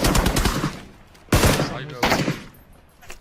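Automatic gunfire in the battle royale game PUBG during a professional esports tournament final, heard as a few sharp rapid bursts with short gaps between them and a faint background.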